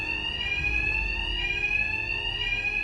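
An alarm in the video game Batman Arkham Knight rings continuously with a shrill, steady electronic tone over a low rumbling background, unbroken for the whole stretch with no talk.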